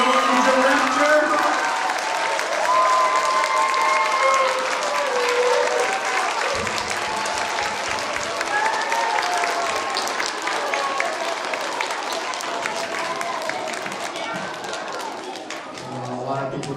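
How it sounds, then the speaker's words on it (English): An audience at a school first-grade nursery rhyme performance applauds loudly and continuously, dense clapping filling the room with some crowd noise and faint voices mixed in. "a huge round of applause for Mr. Rigby"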